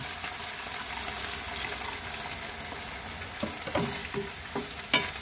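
Ground meat sizzling in a pan for Filipino picadillo, a steady close frying hiss joined by a few sharp spoon scrapes and stirring knocks toward the end.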